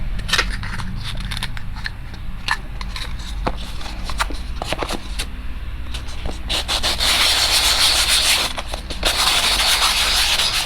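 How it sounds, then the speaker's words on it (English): Steady hand sanding rasps close by on small cosplay prop parts, with scattered taps and scrapes, growing a little louder and rougher toward the end. "So we're starting off with sanding these little things."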